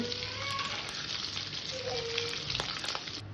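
Whole spices fry in hot oil: cardamom, cloves, cinnamon, a bay leaf and cumin seeds. A close, continuous crackling sizzle runs throughout with a few faint clinks.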